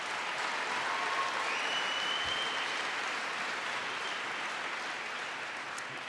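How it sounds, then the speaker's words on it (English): A college audience at a presidential speech breaks into loud, sustained applause, a dense, even wash of clapping that holds steady throughout without voices. "Please give him a big round of applause."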